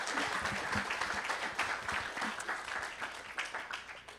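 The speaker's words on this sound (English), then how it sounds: "one round of applause for Benicia and Rachel" An audience at a university startup competition event applauds steadily, a dense even round of clapping that holds at a steady level throughout, with faint talk underneath.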